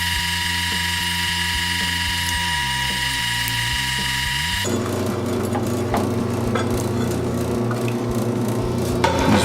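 A power drill bores holes into a concrete garage floor for winch anchor bolts, a loud continuous mechanical whir that steps up into a harsher, grittier grind partway through as the bit bites deeper.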